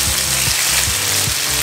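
Honey-sauce-basted sausages grilling over heat with a steady, close sizzling hiss, joined by soft low thumps recurring at an even pace, with no talking.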